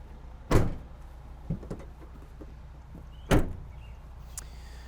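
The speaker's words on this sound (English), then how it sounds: "we'll shut the doors here" Two doors on a Ford Transit camper van shut one after another with firm, close thuds a few seconds apart. A couple of faint clicks fall between them over a low background hum.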